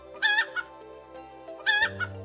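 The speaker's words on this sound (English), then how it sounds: "A brown chicken stands out in the coop." A chicken gives two loud, close clucking calls about a second and a half apart, each a short squawk followed by a softer note, with a faint background hum.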